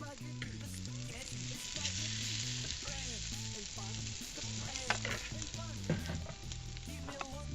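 Spanish tortilla sizzling in a small non-stick pan on a stovetop burner, a steady close frying hiss running throughout with some clinks and scraping, no talk.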